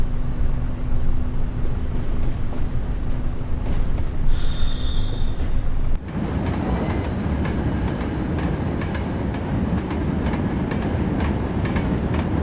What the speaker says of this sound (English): Looks like we're switching tracks here.